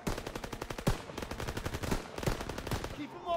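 Machine gun fire in Call of Duty: WWII plays in rapid, loud bursts with brief gaps, close and continuous across the short stretch.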